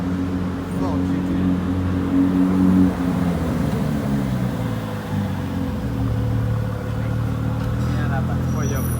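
A Ford GT, parked among exotic cars outside the Cipriani in Monaco, idles or rumbles close by with a low, steady engine tone, while people talk over it.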